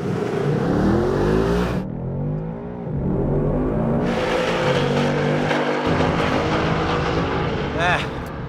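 A loud 2019 Ford Mustang engine revs hard and launches down a drag strip, its roar shifting pitch, briefly dropping, then surging again.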